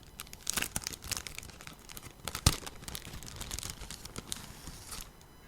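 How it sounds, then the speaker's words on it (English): Cellophane wrapping on a paperback book is torn and crinkled open close up, with sharp rips and crackling bursts in irregular spurts, quiet and without talk. "This is the sound of a very expensive and obscure choose-your-own-adventure paperback being opened."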